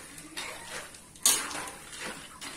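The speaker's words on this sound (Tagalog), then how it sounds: "Ayan, halo lang tayo ng halo." A spoon scrapes and clinks against a pot while a thick peanut butter mixture is stirred, with soft repeated strokes and one sharper metallic knock midway, fairly quiet and close.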